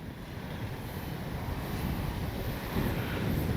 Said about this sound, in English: Now, if I can turn against the wind without getting blown over.